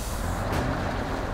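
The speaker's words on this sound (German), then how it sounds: "Bremsen, bremsen." A loud, steady hiss of truck air brakes releases in SnowRunner, the video game, over a low rumbling engine, with the burst sharpening partway through.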